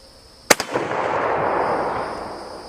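A rifle chambered in 54R rimmed cartridges fires at a shooting range: one loud, sharp report with a quick second crack, then a long rolling echo that slowly fades.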